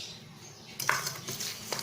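A utensil clinks and scrapes against a bowl while a homemade donut batter is mixed, a few light metallic taps and scrapes close by in a quiet kitchen.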